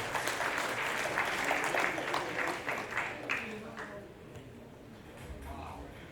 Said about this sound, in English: Please give it a huge round of applause for Mahesh.